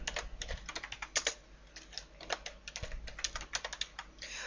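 Rapid typing on a computer keyboard while entering an email address, a quiet run of light, irregular key clicks with short pauses, close by and with no voices.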